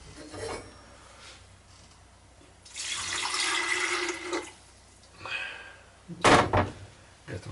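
500 ml of water pours into a kettle in a steady splashing stream for a couple of seconds, followed by a few clunks and knocks of handling nearby.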